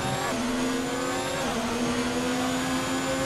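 Ferrari racing car engine in F1 2019 at the Australian Grand Prix in Melbourne, a steady high turbo whistle riding over a loud continuous engine drone, with a pitch shift partway through.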